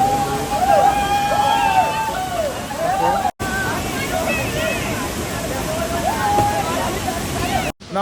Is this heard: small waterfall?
yes